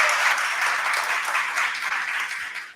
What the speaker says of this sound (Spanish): voy a pedir un aplauso para todos vosotros por venir a vernos y para Estación Podcast